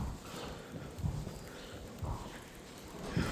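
A horse walks on a farm with steady, moderately loud hoof clip-clops, a few heavier knocks standing out over a constant background rumble.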